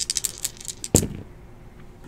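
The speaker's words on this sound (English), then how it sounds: "Gonna roll some dice." Dice tossed during a basketball card box break, a quick burst of light clattering rattles followed by one sharper hard knock as they land, then a faint settling rattle, close and alone.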